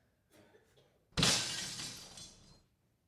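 Glass shatters in a single loud crash during a theater scene depicting Kristallnacht, the night of broken glass. Faint rustling comes first, then the sharp break and a tinkling tail of falling shards that fades over about a second and a half.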